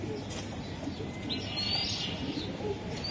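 Caged racing pigeons for sale coo steadily in low, throaty rolls, with occasional higher chirps and wing rustles nearby over a faint background hum.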